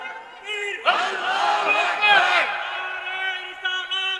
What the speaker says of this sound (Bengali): জোরে একটা তাকবীর দিতেছে।